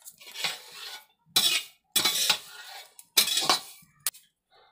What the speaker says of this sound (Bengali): নাড়া বন্ধ করলে চলবে না।